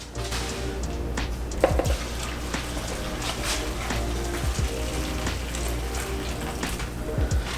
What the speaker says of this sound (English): So I'm going to add the hot water to the curtido right now